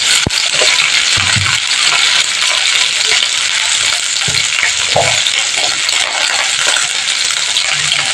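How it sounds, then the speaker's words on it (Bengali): Cauliflower pieces sizzle steadily in hot oil in a home kitchen pan for a curry, a loud continuous hiss with a few soft knocks and stirring clatters scattered throughout, no voices. "ফুলকপিটাকে এবার আমি ভালো করে লাল লাল করে ভেজে নেব।"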